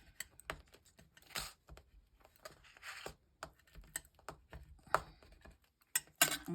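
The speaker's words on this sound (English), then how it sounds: "I'm just going to burnish this down" Dry, scratchy rubbing taps and scrapes from a burnishing tool pressing a small paper piece onto a handmade card, quiet and close, coming in irregular short bursts with brief pauses.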